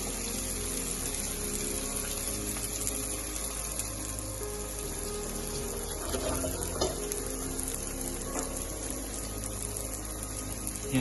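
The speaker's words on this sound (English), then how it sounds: "I'm just going to allow this to fry some more" Salt fish fritters frying in a pan of oil kept below high heat, giving a steady, continuous sizzle and bubbling with no talking over it.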